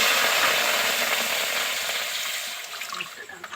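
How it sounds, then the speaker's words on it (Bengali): Water goes into a hot wok while making tal pitha, producing a loud, close hissing sizzle that slowly dies down over a few seconds. "আমি কড়াইতে একটু জল দিয়ে দিচ্ছি"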